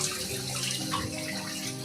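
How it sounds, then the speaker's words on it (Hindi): Water drips and trickles inside an artificial cave temple, a steady wet patter with splashy detail and a constant close hiss, with no talking. "ऊपर से भी टपक रहा है यहाँ पे पानी।"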